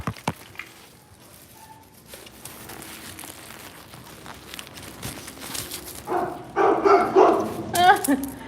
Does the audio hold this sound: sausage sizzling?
no